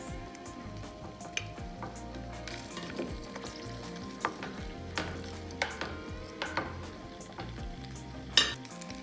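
Sausage, peppers and onions sizzle softly in a frying pan, a continuous quiet crackle broken by scattered clicks and scrapes of a utensil against the pan.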